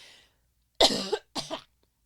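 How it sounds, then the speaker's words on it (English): Two short, sharp coughs close to the microphone, a brief pause between them, after a faint breathy sound. "I had to cough real quick."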